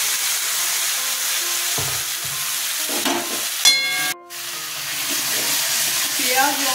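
Onion, ginger and chili paste sizzles and fries in a pan for a katla fish malaikari curry. The hiss is steady and close throughout, with scraping stirs and a brief clatter partway through.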